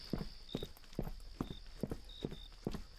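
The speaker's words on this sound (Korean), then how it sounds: "아 내 발자국 소리구나" Footsteps climb stairs in a horror video game, a regular series of about eight hollow thuds at an even walking pace, close and moderately loud, over a steady hum with a faint high tone.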